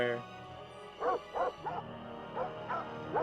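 Dog barking in a horror video game, a run of short yips and woofs in quick succession over a steady game soundtrack hum, fairly close and moderately loud.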